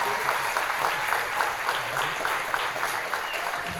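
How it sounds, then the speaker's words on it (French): An audience at a round-table conference claps for the two speakers being introduced, producing a continuous, fairly dense patter of applause at moderate volume. "vous pouvez peut-être les applaudir rapidement."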